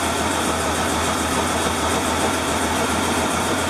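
A Medusa research engine runs steadily nearby, its cylinders firing in a dense, even, continuous mechanical drone with a low pulsing hum and no talk.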